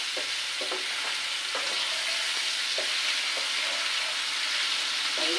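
Long-cut vegetables seasoned with a little salt and turmeric are stir-fried for chowmein, giving a loud, constant hissing sizzle in the pan with scattered soft scrapes of slow stirring and no voices.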